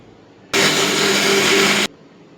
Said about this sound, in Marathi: इकडे आपण आता मिक्सरला बारीक करून घेऊयात